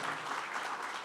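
A church congregation applauds for visiting pastors during a Spanish-language service, a steady wash of many hands clapping at once, fairly close and continuous with no break for the whole moment.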